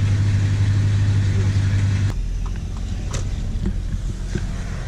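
A car engine idles with a steady low rumble and drone that drops abruptly partway through, then a softer idle continues with faint scattered clicks and background sounds.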